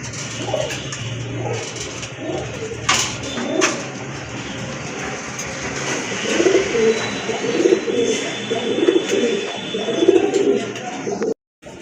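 Pigeons cooing at a market stall selling domestic and foreign breed pigeons, including a snake-eyed Rajgolla hen, with soft overlapping coos throughout and faint background noise.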